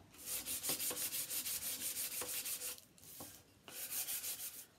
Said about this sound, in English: depending on the condition of your frame, you might want to give it a light sand on the outside too